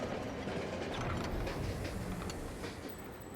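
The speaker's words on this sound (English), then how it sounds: "The Bone Shaker, that's my train, makes its way through an abandoned train yard." Train in the Monster Train video game rolling through an abandoned train yard, a faint, continuous rumble with light rattling clatter, alone and without talk.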